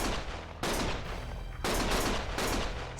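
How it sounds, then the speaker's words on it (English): Bursts of gunfire in the Lost Judgment video game, loud dense volleys that cut out briefly and return, roaring in broadband blasts with no talk over them. "Stop shooting!"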